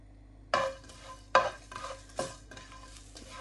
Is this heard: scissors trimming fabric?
no